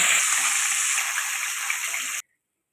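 Pieces of katla fish fry in hot oil with a loud, steady bubbling hiss up close, which stops abruptly after about two seconds.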